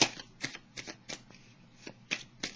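Tarot cards shuffled by hand in quick riffling bursts, about eight crisp rustling flurries in a steady rhythm, close and fairly quiet, with no talking.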